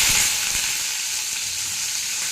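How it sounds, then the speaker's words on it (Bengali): Coarsely cut onions fry in hot oil in a wok, a loud, continuous, even sizzle with a faint soft knock near the start and no other sounds. "এবার আমি পেঁয়াজটা ভাজতে দিয়ে দেবো।"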